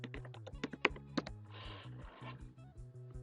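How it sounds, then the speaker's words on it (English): A short burst of typing on a computer keyboard, close and clear, with irregular key taps and a brief run of faster clatter. "So I'll type right now foot fungus."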